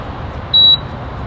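A single short electronic beep, high and clear, from an EV charger card reader while charging a VW ID. Buzz, over quiet background hiss.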